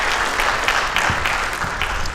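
Audience applause for a K-12 school counseling team at a school program presentation, a moderate, even patter of clapping that continues for about two seconds without speech.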